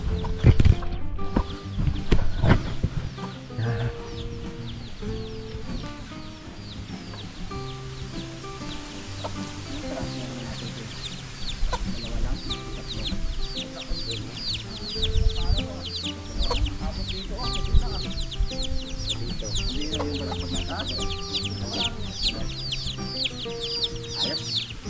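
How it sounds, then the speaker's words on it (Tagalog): Chicks peep and cluck in a busy farmyard, high chirps repeating steadily throughout, mixed with adult chicken clucks and scattered thumps and background activity. "Yung aming mga ano, yung mga sisiw."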